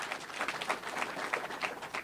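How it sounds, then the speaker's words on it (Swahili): An audience applauds at a party political event, a short burst of steady, dense clapping close by. "Mpeni makofi yake."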